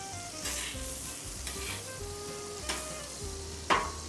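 Onions sizzle steadily in a hot pan, with an occasional stir or scrape of a utensil, close up and with no voices.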